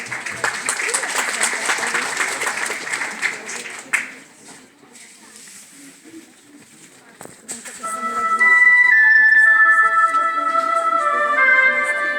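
An audience applauds after a live performance of a song, loud clapping for about four seconds, then a quieter stretch before sustained tonal music swells in.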